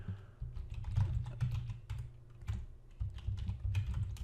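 Keys clatter on a computer keyboard as someone types a website domain name, a steady run of close, crisp clicks with brief pauses, heard alone without talk.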